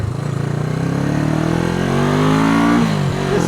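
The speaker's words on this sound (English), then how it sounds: "We'll try to keep the RPMs up a little bit." A Honda CB360 motorcycle, running on only one cylinder, revs upward at close range over a few seconds, its engine tone rising steadily before dipping slightly at the end.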